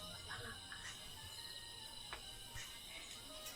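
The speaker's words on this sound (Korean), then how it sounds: "매미 너무 시끄럽지 않아?" Cicadas drone steadily at a campsite on Ganghwa island, a continuous high buzzing bed over faint background, with a voice and family chatter heard briefly in the foreground.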